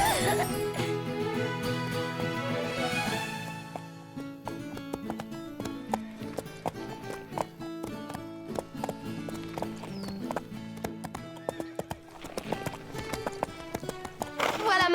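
Horse hooves clip-clop in a steady, quick rhythm over a bed of continuous background music.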